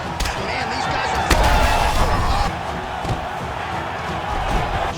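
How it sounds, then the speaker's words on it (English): A UFC 5 arena crowd roars in appreciation after a grueling ground battle between lightweight and featherweight fighters, a steady dense cheer with a few thuds and swells, under commentary. "the crowd pops in appreciation"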